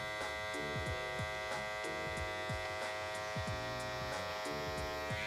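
Electric hair clippers run steadily with the taper lever fully closed, a close, even motor buzz with a dense harmonic hum and short clicks and sweeps as the blades pass through hair, heard alone throughout.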